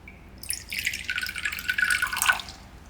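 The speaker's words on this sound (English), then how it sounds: "And then I'm going to pour this water." Water poured into a container during a craft tutorial, a soft trickling and splashing stream lasting a couple of seconds, close and fairly quiet, with no talk over it.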